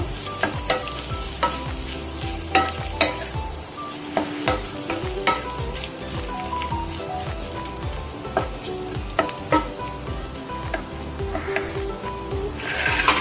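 Onions frying steadily in a pan, a dense, continuous close sizzle with frequent small crackles and pops throughout, no talking.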